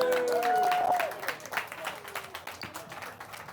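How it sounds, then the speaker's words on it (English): Audience applauds a special guest speaker at a club gathering, a dense burst of clapping that starts loud and gradually thins out into scattered claps, with a voice speaking briefly over it at the start. "Everyone give him a hand of applause."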